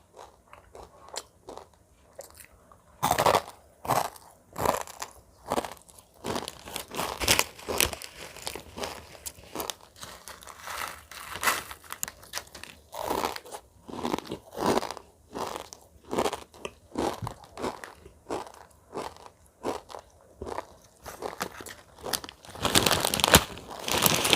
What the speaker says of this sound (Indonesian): Mie-nya kecil-kecil dan kering banget nih mie-nya, makanya renyah banget di mulut.